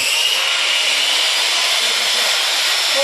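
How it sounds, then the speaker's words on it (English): Two solar-powered circular saws run together off an off-grid workshop system, producing a loud, steady, close whine and whir without pause throughout. "testing to see if we have both saws running at the same time"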